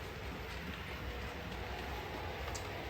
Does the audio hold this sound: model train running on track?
yes